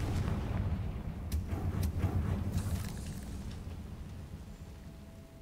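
A Confringo fire spell bursting in the video game Hogwarts Legacy, heard as a deep, rumbling blast with sharp crackling hits in the first three seconds, then a sustained low roar that fades out.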